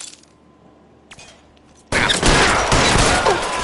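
Gunfire erupts in the LA Noire police shootout, a sudden loud burst of rapid overlapping shots after a quieter stretch with a few faint clicks, then sustained heavy firing to the end.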